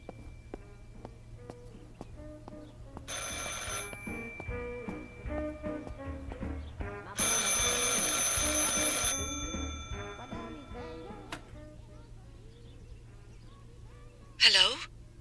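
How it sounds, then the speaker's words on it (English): Telephone ringing in the video game Martha Is Dead, an old-fashioned bell ring in repeated bursts over a steady low game ambience and music, moderately loud. "I should pick up the phone but remain silent."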